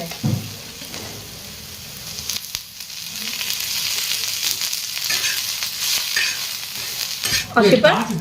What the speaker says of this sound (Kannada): ಕರ್ಬೇ ಹಾಕೊಂಡು ಸ್ವಲ್ಪ ಎಣ್ಣೆ ಹಾಕ್ಕೊಂಡು ಹುರ್ಕೊಂಬಿಡೋಣ ನಾವು